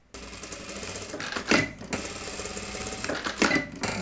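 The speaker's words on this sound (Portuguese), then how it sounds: "Vou passar tudo isso aqui no overlock." An overlock serger stitches fabric seams for a jumpsuit in a steady, fast mechanical whir that rises and eases as the cloth feeds through, close and alone.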